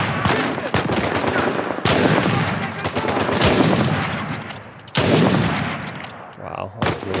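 Rapid bursts of automatic gunfire in an Uncharted 4 firefight rattle loud and close, with repeated volleys separated by brief sharp breaks over several seconds.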